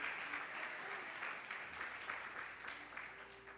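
A church congregation applauds in a continuous wash of clapping, moderately distant and steady, with faint voices mixed in.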